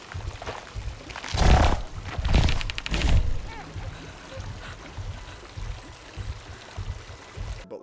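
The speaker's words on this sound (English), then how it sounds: "It's just a little bit of water dropping" Water falls and splashes in a tense scene from the horror film A Quiet Place, where a woman holds her baby beneath dropping water; a few louder splashing surges come early, then a steady low trickle continues.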